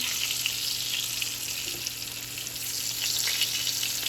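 Pickled squash frying in olive oil in a cast iron pan over medium heat, a steady, dense sizzle with fine crackling that holds level throughout, close and fairly loud, with no voices.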